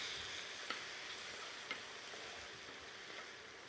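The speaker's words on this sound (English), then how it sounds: "I would saute that for about 1 to 2 minutes." Garlic and tomatoes sautéing in a pan as a sauce for stuffed tomatoes, a faint steady sizzle with a couple of light utensil taps, heard alone without speech.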